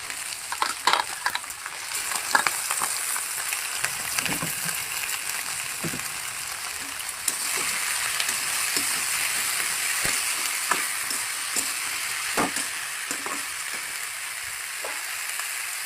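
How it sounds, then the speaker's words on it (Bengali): Chicken pieces sizzle steadily in a hot pan over about sixteen seconds, with frequent clinks and scrapes from a spoon stirring them. It is close and moderately loud, with no talk. "এখন চিকেন দিয়ে দেবো।"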